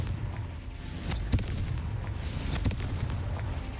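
A Confringo spell explosion from the Hogwarts Legacy video game bursts as sharp booms around 1.3 and 2.7 seconds, set against a dense, continuous low rumble of game effects.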